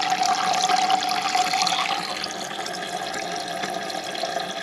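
Water pours in a steady, fairly loud stream as a water heater is filled, the rush easing slightly toward the end, with no talking.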